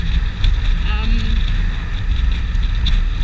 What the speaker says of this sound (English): hopefully you can hear me with all this bloody wind